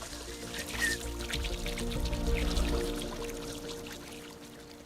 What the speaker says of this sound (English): it's so much better to just sit, listen to the sound of the water